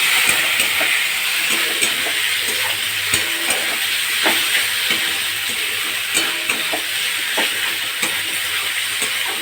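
Chopped tomato frying in hot oil with Kashmiri chilli powder and spices for Hyderabadi-style mutton, a loud, dense, continuous sizzle and hiss close up, with faint stirring clicks and no voices.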